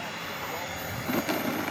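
A Freewing Goshawk turbine jet model aircraft on final approach to land, its steady whining roar held at a distance, with a voice talking briefly over it.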